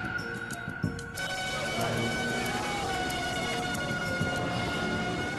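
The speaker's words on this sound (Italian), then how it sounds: "Alle 3 del mattino, le ambulanze portano in ospedale gli ultimi feriti." Ambulance sirens wail at 3 a.m. in Kuta Beach, Bali, carrying the last wounded to hospital after bomb attacks; a continuous, moderately loud siren tone sweeps against a dense background, with no speech.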